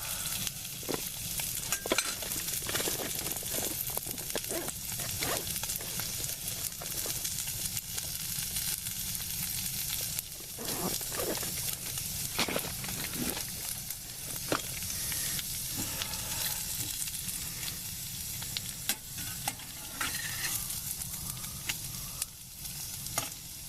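Pre-cooked bacon fries in a Pathfinder stainless steel skillet with a continuous crackling sizzle, broken by sharper pops and occasional scraping as it is moved around the pan.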